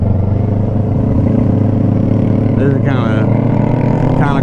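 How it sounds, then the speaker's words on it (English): A sport motorcycle runs steadily at very high speed, its engine a loud, continuous drone layered with rushing wind, with a voice speaking partway through. "This is a really nice bike to be just running out like this, but it took it like a champ"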